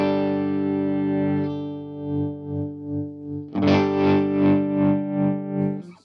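An electric guitar chord fed through a Chase Bliss Audio Gravitas tremolo pedal set to sine wave on both sides, sustained notes swelling and dipping in a smooth, even pulse, strummed again midway and left ringing with steady wavering volume.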